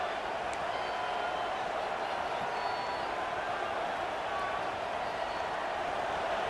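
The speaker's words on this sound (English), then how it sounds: "Listen to this crowd just shaking the girders of this place trying to help their defense." A stadium crowd in College Football 26 roars as a continuous, dense wash of cheering and noise that holds steady throughout.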